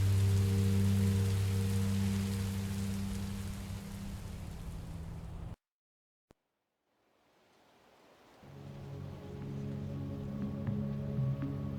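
Rain falling in the Minecraft Story Mode video game, a steady hiss of rainfall that cuts out abruptly to near silence for a few seconds, then swells back in with a low rumble beneath.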